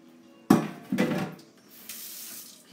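Water poured into a pot while cooking pasta with lentils and fresh tomatoes, a close splashing pour that starts abruptly and surges in two or three bursts before settling into a steadier trickle.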